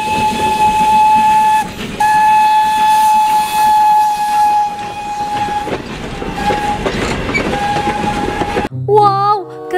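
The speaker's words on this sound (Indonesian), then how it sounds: "Widih-widih, ada kereta Thomas" A toy Thomas the Tank Engine train plays a loud, steady steam-whistle tone with hissing and rumbling, broken by brief gaps, ending in a short warbling electronic jingle.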